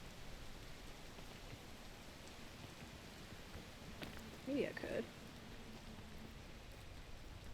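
Steady rain falls as a constant soft hiss in the PEAK climbing game, quiet and even throughout, with a person speaking briefly partway through.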